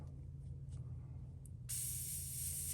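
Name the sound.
spray gun spraying paint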